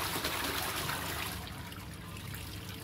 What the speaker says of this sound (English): we're going to flush again one more time just to make sure